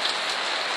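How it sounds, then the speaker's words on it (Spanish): Heavy rain pours steadily outside a temple in India as darkness falls during an eclipse, a dense, unbroken hiss of drops drumming on surfaces close by, with no voices. "está lloviendo a mares"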